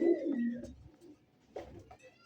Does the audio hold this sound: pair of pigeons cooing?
yes